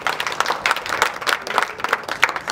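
Applause from a crowd at an international U18 youth football tournament in Kaloum, Conakry, a dense steady patter of clapping lasting a few seconds at moderate loudness, with no voices standing out.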